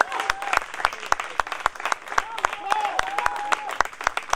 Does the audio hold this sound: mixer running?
no